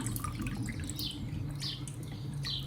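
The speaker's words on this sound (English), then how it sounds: "spent just holding this screen and letting the water drip" Quiet, steady trickle of water dripping from a papermaking screen holding pulp, with scattered light drips over a low background hum, no voices.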